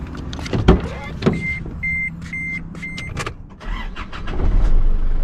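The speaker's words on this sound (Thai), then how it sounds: "นี่ครับเสียงเครื่องยนต์สตาร์ทติดง่ายนะครับ" An Isuzu D-Max pickup engine cranks and starts amid car-interior clicks and thumps, followed by a short series of evenly spaced electronic chimes, then a low diesel rumble that settles and swells toward the end.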